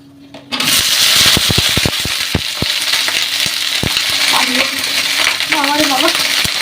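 Wet food hits hot oil with a sudden burst, then sizzles and splatters loudly with sharp crackling pops throughout, and a voice speaks faintly underneath.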